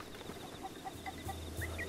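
Chickens in Kakariko village in The Legend of Zelda: Breath of the Wild give a few faint, short clucks over quiet game ambience, with a soft low background tone.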